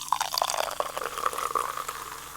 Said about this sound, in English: The bubbles. Listen to it.